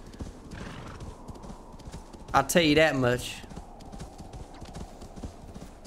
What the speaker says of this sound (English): Man, this horse has some giddy up to it.